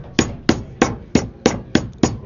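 A mallet pounds pork loin thin in seven loud, evenly spaced thwacks about a third of a second apart, each a sharp close impact, with no talking.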